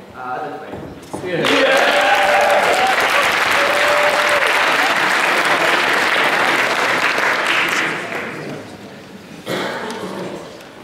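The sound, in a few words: audience applause at a debate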